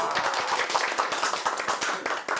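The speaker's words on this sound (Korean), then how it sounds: "기쁨의 박수 한번 치겠습니다." A small group of people clap in celebration at a studio interview about a Korean theatre troupe's invited performance at the Seoul Arts Center, with a steady rapid patter of hand claps filling the short moment, close and fairly loud.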